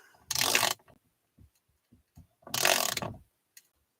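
Wrench ratcheting while bolting a purchased machine to a wooden base: two bursts of rapid metallic clicking a couple of seconds apart, with soft knocks and taps between, close and quiet, no talking.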